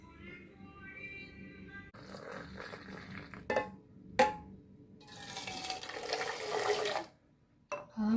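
Hot Bru coffee is poured back and forth between vessels to froth it, making close, bursty liquid splashing and streaming sounds that swell and stop in several rounds.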